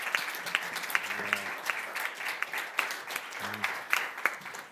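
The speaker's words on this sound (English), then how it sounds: "let's join me on giving him another round of applause" Steady audience applause at a scientific conference event, a continuous wash of many hands clapping at moderate volume with a few faint low voices murmuring underneath.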